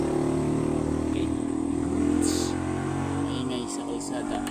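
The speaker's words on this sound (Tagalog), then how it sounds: "Maingay sa kalsada. Motor." A motorcycle passes on the road outside, its engine droning and revving steadily under a continuous noisy background, with a voice talking over it.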